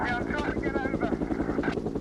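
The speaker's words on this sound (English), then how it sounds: "the helicopter picks up the criminal behind the fence and follows him into a wooded area" A police helicopter flies over a wooded area while following a suspect, its steady rotor chop running throughout beneath continuous talk.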